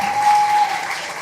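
Brief burst of audience clapping at a Malayalam movie audio launch event, a dense, loud wash of many hands that swells and then eases off within about a second.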